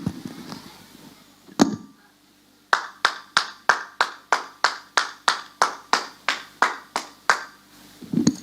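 Clapping in a church service: after a quiet start and one sharp clap, about fifteen loud, evenly spaced claps ring out close by, sounding like one person clapping slowly and firmly.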